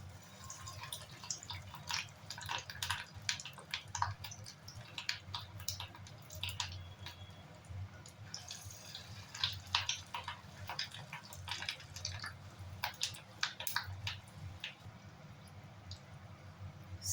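Small fish egg pakoras (macher dimer bora) with a pinch of baking soda fry gently in hot oil, giving soft crackling pops and fizzing bubbles over a low hum, fairly quiet and close.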